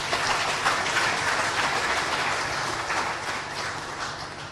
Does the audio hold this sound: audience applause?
yes